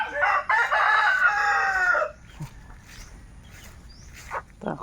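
Chickens and a rooster outdoors: a loud, close rooster crow runs for about two seconds at the start, then fades to scattered faint clucks and calls over quiet yard ambience.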